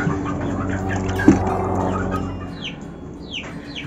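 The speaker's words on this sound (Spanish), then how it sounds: "Estos son gallinas." Hens kept for laying eggs, recently let out of their enclosure with chicks, cluck softly in a barnyard, with a brief louder squawk and scattered bird chirps over a steady low background.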